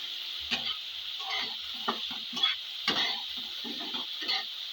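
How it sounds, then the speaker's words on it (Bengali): Okra (bhindi) frying in a pan for a home-cooked duck curry meal, a steady close sizzle with scraping stirring strokes at intervals throughout, no talking. "এদিকে হচ্ছে ভেন্ডি ভাজা।"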